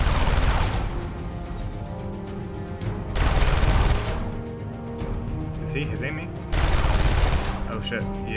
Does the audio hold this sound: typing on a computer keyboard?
no